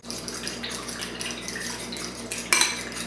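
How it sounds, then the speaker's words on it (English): Dijon mustard whisked into a mixture in a bowl for crispy baked chicken tenders, heard as a steady close clatter of a utensil against the bowl with a sharper clink near the end. "And then we're just going to whisk it up."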